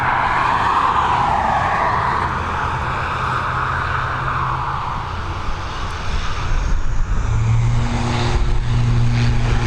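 A Mitsubishi aircraft on the runway at Dublin Airport, its engine and propeller noise a loud, continuous drone that shifts in pitch as it moves, with a rising hum toward the end.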